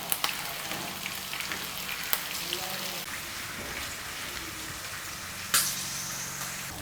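Prawns 65 frying in hot oil for a Kerala-style roast, giving a continuous, dense sizzle and crackle with occasional sharper pops, steady and close.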